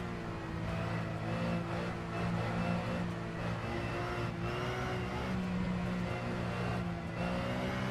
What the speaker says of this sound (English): I would definitely say this car sounds are annoying on a lot of the default cars